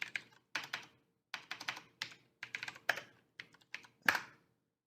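Someone typing on a computer keyboard during a livestream, short bursts of light clicky keystrokes separated by brief pauses, close and moderately quiet with no talk.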